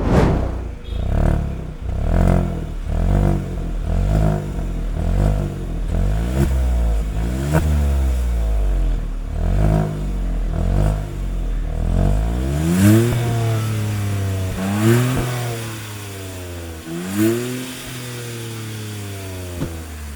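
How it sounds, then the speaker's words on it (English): A Hyundai Venue N Line with a 1.0 GDI turbo engine and DCT automatic revs repeatedly, its exhaust note rising and falling in regular loud pulses, then holding longer sweeping revs toward the end, with no talk. "there is something that could be music to your ears: the tweaked exhaust note on the backside"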